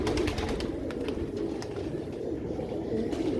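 A flock of about fourteen Dub-breed pigeons, with Kamangar birds among them, coos continuously in low, throaty overlapping calls, close and steady throughout.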